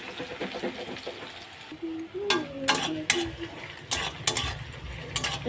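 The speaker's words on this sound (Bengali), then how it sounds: "আমরা এবার পেঁয়াজটাকে নাড়বো দেখতেই পাচ্ছ পেঁয়াজটা খুব সুন্দর আস্তে আস্তে কালার আসছে" Onions fry in a pan for a thin chicken and potato curry, a soft sizzle under repeated clattering stirring strokes that grow louder and more frequent, with a voice briefly heard in the middle.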